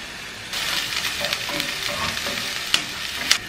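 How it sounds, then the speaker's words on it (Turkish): Onions and garlic sauté in a pan with a steady, close sizzle, broken by occasional scrapes and clicks from stirring, and no voices. "Soğanları kavuruyoruz. Sarımsakları da ekliyoruz."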